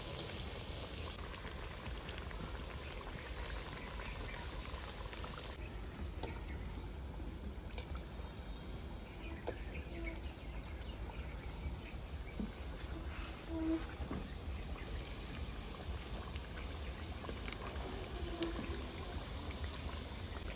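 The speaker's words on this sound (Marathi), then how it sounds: "कचोरी आपल्याला मंद याच्यावरच तळायची. चांगला सोनेरी रंग येईपर्यंत आपण तळणार आहोत." Kachori fries in oil over a low flame, giving a continuous soft bubbling hiss with faint scattered crackles, steady and close throughout with no speech.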